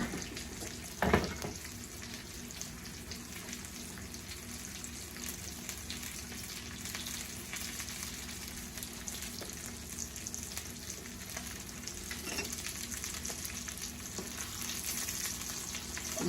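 Breaded pork tenderloins brown in a frying pan with a soft, even sizzle that holds steady throughout, joined by a single sharp knock early on and faint clinks, fairly quiet and without speech.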